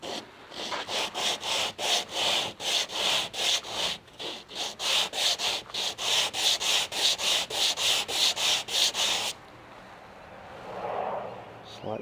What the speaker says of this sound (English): To sand a piece like this, on a big piece on a flat surface.